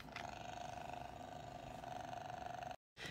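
A cat purrs steadily and close up, a continuous low rumbling rhythm that runs for a few seconds before cutting off briefly.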